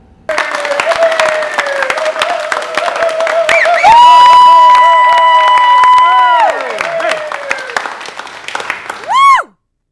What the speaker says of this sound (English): I'm sure you're going to want to welcome him with a big round of applause.